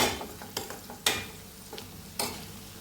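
Turmeric and coriander powder being stirred in hot tempering oil, a soft low sizzle punctuated by several sharp scraping clacks of a spatula against the pan, close and otherwise quiet.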